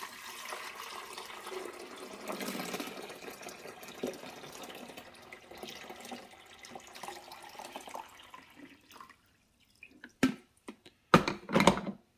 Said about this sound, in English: I'm going to pour it here back where the water goes.